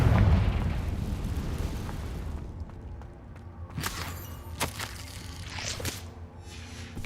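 A Confringo spell blast in Hogwarts Legacy opens with a loud, booming burst and low rumble, then fades into a quieter game soundscape with several sharp crackling pops.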